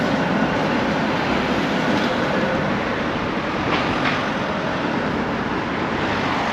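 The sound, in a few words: tram passing on street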